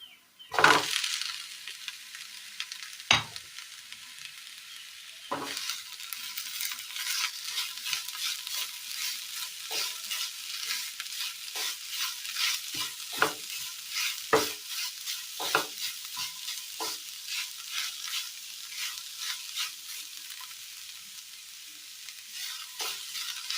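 Chopped ash gourd stirred into softened onions in a hot pan, a steady sizzle of frying with repeated scraping and stirring knocks from a spoon against the pan, close and continuous.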